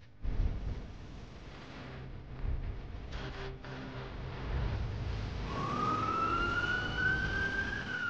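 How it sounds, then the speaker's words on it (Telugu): A siren from an ambulance rises and sweeps steadily over a continuous background rumble of traffic and street noise, growing more prominent toward the end. "అక్కడ అంబులెన్స్ ఉంది కదా"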